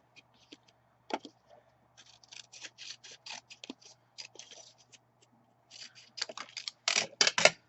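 Scissors roughly trimming a stamped cardstock panel from a one-sheet-wonder card project, giving a run of short crisp snipping and paper rustles, sparse at first and then quicker and louder toward the end, with no talking.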